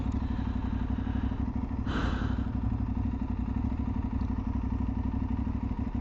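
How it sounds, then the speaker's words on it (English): A motorcycle idles close by with a steady, even exhaust beat, a low rhythmic pulse that stays constant throughout, broken once by a brief clattering knock. "exhaust note, but it's just a little bit too quiet for my liking"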